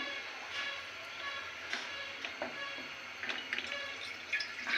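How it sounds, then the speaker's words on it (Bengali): About half a mug of water is poured into a cooking pot set on the stove for melting jaggery; a soft, continuous splashing pour with light drips, fairly quiet and close. "হাফ মগের মতো পানি দিয়ে দিলাম"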